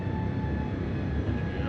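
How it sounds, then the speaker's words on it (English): An airliner's engines roar steadily during takeoff in Microsoft Flight Simulator 2024, a dense continuous rumble with a faint high whine, loud and close, with a voice talking over it. "Wow, look at the takeoff."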